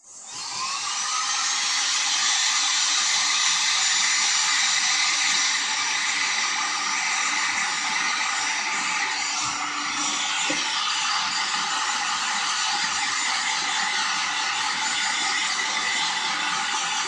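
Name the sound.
hair dryer drying decorated glass jar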